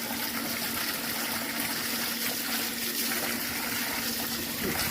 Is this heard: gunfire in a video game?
no